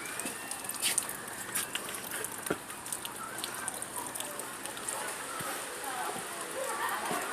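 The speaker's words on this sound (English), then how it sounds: "It's raining out." Steady rain patters outside in a soft, continuous hiss, with faint distant sounds and a few louder drops now and then.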